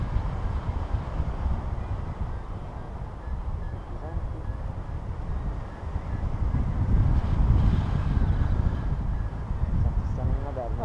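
Wind gusts buffet the microphone during a paragliding flight, a constant low roaring rumble that swells stronger midway, with muffled voices faintly beneath it.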